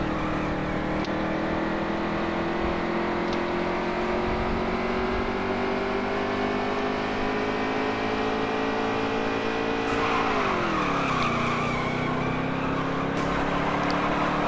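A stock car racing in the NASCAR Heat 3 game holds a steady, loud engine drone that sags sharply in pitch partway through, as if knocked off pace, with faint tire scrub underneath.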